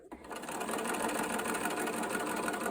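A sewing machine stitches along the raw edge of a pair of jeans. After a brief start it settles into a steady, close, continuous mechanical whir and rattle, with no voice.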